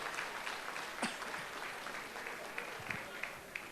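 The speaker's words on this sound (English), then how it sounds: "A big round of applause to our graduates." Audience applause for graduates at a college graduation ceremony, a steady wash of clapping that stays fairly faint and distant throughout, with a few sharper claps and low murmurs standing out.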